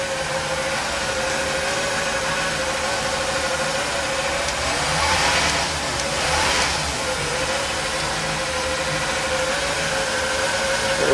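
The inboard V-drive engines of a 1998 Doral 300 SC boat idle cold at around 1000 RPM, giving a steady, even, close rumble with a faint whoosh swelling briefly in the middle.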